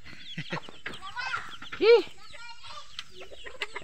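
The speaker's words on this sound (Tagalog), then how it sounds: "Tingnan natin tong alaga natin dito na manok na Shamu Asil." A Shamo Asil chicken clucks and gives a short rising squawk close by, mixed with scattered background voices.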